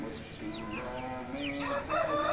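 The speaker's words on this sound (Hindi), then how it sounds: "माशाल्लाह वाइट हैवी बफ मुर्गी बैठ गई है अंडा देने" White heavy Buff hen in a farm setting making soft clucks and warbling calls while settled to lay an egg, close and continuous over low background noise, with other fowl calls mixed in.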